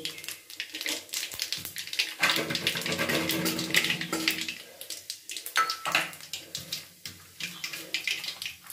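Two dried red chillies and a pinch of nigella seeds dropped into hot oil for tempering, crackling and sizzling hard and continuously with dense popping bursts, close and loud, easing off briefly before flaring up again.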